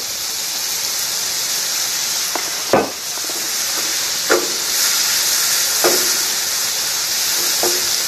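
Soy sauce hits a hot frying pan with chicken, producing a steady loud hiss and sizzle, with a few brief clinks and scrapes of stirring cutting through the constant frying noise.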